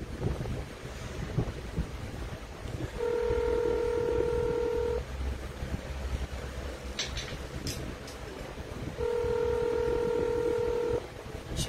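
Two bursts of telephone DTMF dialing tones, each a steady dual-tone lasting about two seconds, separated by a gap, over a background of wind-like noise.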